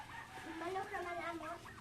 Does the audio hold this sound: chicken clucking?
yes